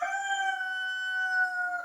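A rooster crows one long drawn-out call, a clear harmonic cock-a-doodle-doo held for nearly two seconds, heard alone at moderate distance in quiet surroundings.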